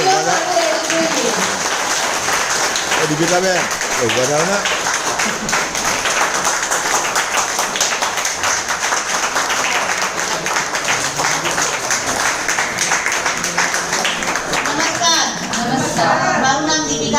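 Audience applause at a product testimonial event in a hotel hall, dense steady clapping that runs throughout, with a few voices speaking over it.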